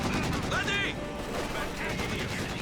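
Dense automatic gunfire from a Soviet DShK heavy machine gun in Company of Heroes 2, a continuous burst under busy battle noise, with harmonic tones and a commentator's voice blended in the mix.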